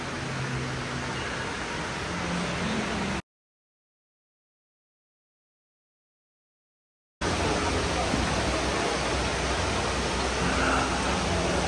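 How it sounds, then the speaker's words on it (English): Indoor waterfalls inside the Dubai Mall give a steady, loud broadband rush of falling water, broken by a few seconds of dead silence partway through, with faint voices mixed under the roar. "these are the waterfalls inside the Dubai Mall"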